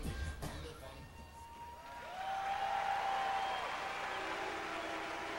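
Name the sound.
crowd applauding bodybuilder Marcus Rule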